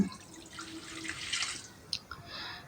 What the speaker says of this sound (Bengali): আমি ওই একই প্যানের মধ্যে দিব 1 কাপ পানি